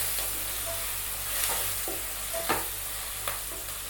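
Mushroom masala with a green ground paste of mint leaves stirred in a frying pan, a steady soft sizzle broken by a few scraping strokes of the spoon.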